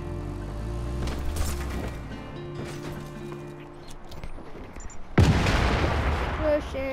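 A sudden loud explosion bursts out in Just Cause 3 after a stretch of mechanical rumbling and gunfire-like noise, followed by a rushing, crackling aftermath.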